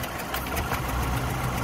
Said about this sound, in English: idle whether covered or not, it will run rough like this